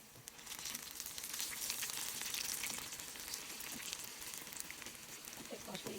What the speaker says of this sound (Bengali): পাকুড়ি আমি ভাজি করে নিয়েছি সবগুলো